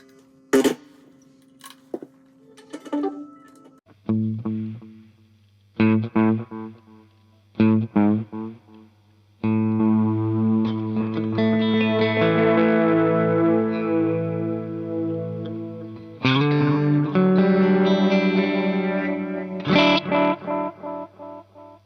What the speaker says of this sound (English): the Electro-Harmonic's Memory Boy Deluxe analog delay